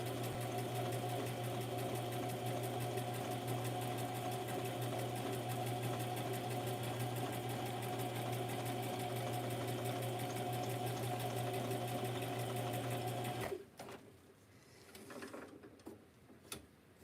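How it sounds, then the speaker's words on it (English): A sewing machine stitches through a junk journal page, running steadily and loudly for about thirteen seconds before stopping abruptly, followed by a few faint handling noises. "And then one more time with the sewing."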